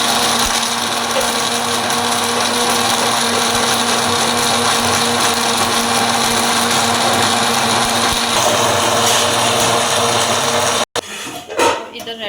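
An electric blender whirs loudly and continuously, churning a pomegranate milkshake sweetened with sugar, then cuts off abruptly near the end, leaving brief clattering and a voice.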